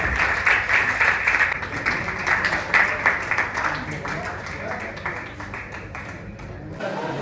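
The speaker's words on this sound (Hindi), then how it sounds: "तालियां।" Audience applause fills a Delhi Medical Association Doctor's Day celebration, a dense, steady clapping that stays loud for about seven seconds before easing slightly at the end.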